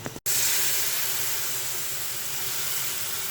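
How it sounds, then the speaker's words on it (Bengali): Water hits hot chili-spiced fried onions in a pan and raises a sudden loud, steady steaming hiss that carries on unbroken at close range. "এখন একটু পানি দিই, তা না হলে মশলাটা পুড়ে যাবে।"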